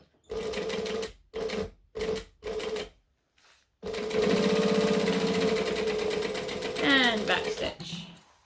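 Sewing machine stitching a pocket onto fabric: four short stop-start bursts of rapid needle chatter, then a longer continuous run, close and clear with some speech around it.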